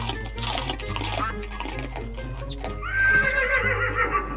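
A horse whinnies in the blocky sandbox game Minecraft, modded with Mo' Creatures, a clear neigh rising over game music and clip-clop hooves, loud and close.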